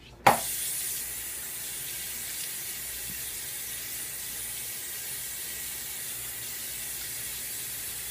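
Hot tap water runs steadily into a sink while someone gets ready to shave with a double edge razor, making a soft, even hiss that begins with a brief knock and continues alone.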